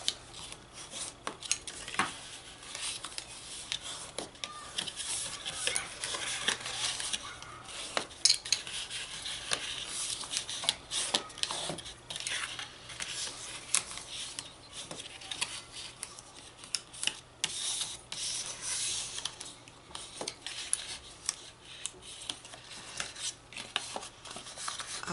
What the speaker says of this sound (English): Let's fold and burnish all of our score lines.